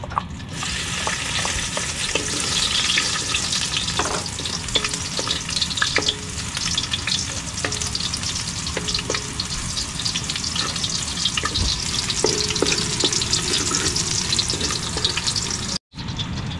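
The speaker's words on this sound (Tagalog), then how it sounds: "Gigisa na tayo guys ng ano, sibuyas at bawang para sa ating lulutuin." Garlic and onion sautéing in a hot pan, a loud continuous sizzle with scraping stirring strokes throughout and a brief cut near the end, no voices.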